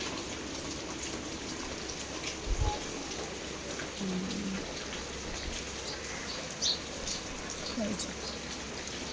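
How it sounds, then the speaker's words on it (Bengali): Heavy rain pours steadily in a dense, even hiss with occasional heavier splashes, and faint voices are heard in the background. "তবে ভালো বৃষ্টি হচ্ছে এই যে দেখো"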